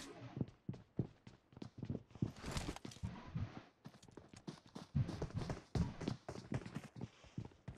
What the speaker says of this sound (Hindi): आवाज आ रही है दो स्टेप्स है